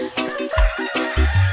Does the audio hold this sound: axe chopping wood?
no